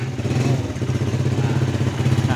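A Suzuki Satria FU motorcycle engine running just after an electric-starter start, a close, steady mid-pitched putter with a fast pulsing rhythm throughout.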